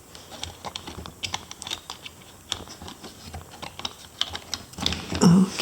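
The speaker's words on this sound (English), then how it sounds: "use the escape key to go back twice to the home base menu" Keys pressed on an ultrasonic calibration device, heard as a run of light, irregular clicks close by, with a brief louder rustle near the end.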